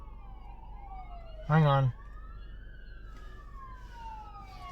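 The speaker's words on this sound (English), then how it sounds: "Got a siren blaring over here." A siren blares outdoors, its wailing tone sweeping up and down steadily through the whole stretch at moderate distance, with a brief burst of a man's speech partway through.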